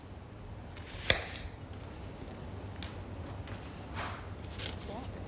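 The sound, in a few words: chopping onions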